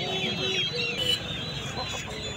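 Chickens cluck and squawk amid a busy, noisy crowd at a poultry market, the birds fairly close with steady murmur of people around.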